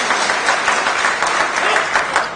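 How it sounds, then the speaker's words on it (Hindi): Loud, dense applause from an audience in the Karpoori hall in Patna, a continuous roar of many hands clapping at close range with no break. "सुबोध बाबू के लिए जोरदार ताली बजाइए"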